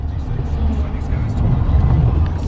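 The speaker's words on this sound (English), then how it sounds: "Got a power and light truck coming through." A power and light utility truck rolls through a storm-damaged street in Independence, Missouri, giving a steady, loud, low engine rumble and road noise that holds for the whole stretch.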